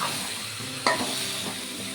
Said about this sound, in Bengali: মাংসটাকে একটু কষিয়ে নেব।